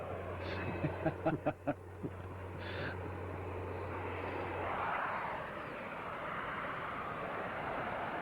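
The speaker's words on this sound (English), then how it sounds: "Coming in for a slow pass again." An agricultural aircraft engine at an ag-reunion air display drones as the plane comes in for a slow pass, with a few sharp knocks early on before the engine noise swells gently and stays moderately loud and steady.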